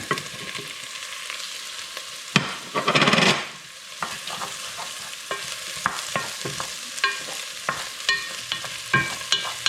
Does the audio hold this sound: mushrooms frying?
yes